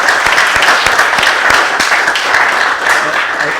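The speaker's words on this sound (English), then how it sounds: "another round of applause for this young man" A small outdoor crowd at a railroad days event in Canaan, Connecticut applauds a young man, brief, close, fairly loud clapping with a few distinct sharp claps and some murmured voices mixed in.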